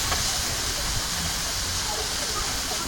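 Smash burgers sizzle steadily on a Blackstone flat-top griddle, a loud, continuous hiss with no breaks.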